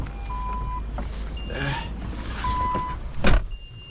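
A Honda Shuttle with a replaced gearbox clutch release bearing idles and pulls away, heard from inside the cabin as a low engine hum with several electronic dashboard chimes and a brief thump near the end.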